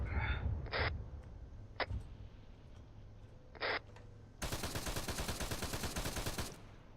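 Bursts of gunfire in a shooter video game where armored troops face Kasrkin: a few short isolated shots, then a dense rapid automatic volley lasting about two seconds, loud and close, with no talk over it.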